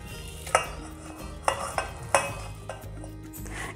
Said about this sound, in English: Let's whisk and make the butter now.